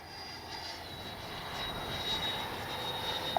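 A Freewing F-22 90mm RC jet flies overhead, its ducted-fan whine a steady, moderately distant roar that swells slightly toward the end, with a thin high-pitched tone running through it and no voices.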